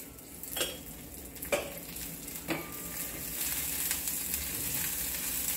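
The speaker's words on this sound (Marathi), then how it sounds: "हे चमचाभर तूप घातलं, याला थोडं परतून घेतलं" Food sautéed in a spoonful of ghee gives a low, steady sizzle, punctuated by a few sharp spoon taps on the pan near the start, with no talking.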